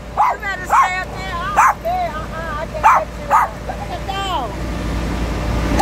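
A big dog gives a run of short, high yipping barks mixed with whimpers, close and loud, repeating in uneven bursts with a faint background hum.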